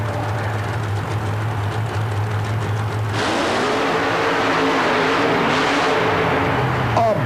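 The engine of a Taurus Chevy monster truck revs during a qualifying run at a USHRA Worcester, MA event: a steady low idle rumble, then a loud, sustained roar over constant arena noise.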